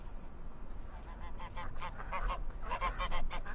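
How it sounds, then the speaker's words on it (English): Geese honk in Farming Simulator 15 on the American Outback map, a run of repeated nasal calls clustered toward the second half over a steady low rumble of game ambience. "Here's the geese, of course."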